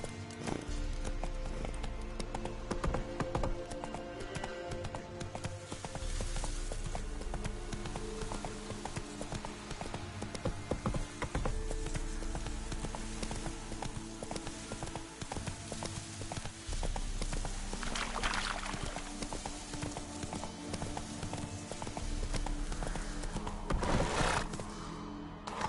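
Horse hooves pound in a steady galloping clip-clop in The Witcher 3 video game, running continuously at a moderate level over a constant background of game music and ambience, with a brief whinny-like burst near the end.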